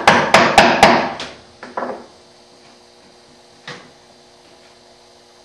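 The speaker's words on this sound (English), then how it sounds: "tilt the chisel forward a little bit. Just give it a tap or two" Several sharp chisel taps on wood while chopping hand-cut dovetails, a quick cluster of four close hits followed by two softer taps and one lone tap after a pause, over a faint steady hum.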